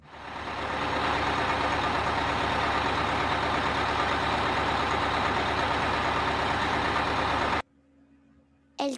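A bus engine drones heavily and continuously at close range, with a dense, even rumble for over seven seconds before cutting out abruptly, followed by a faint mechanical clunk.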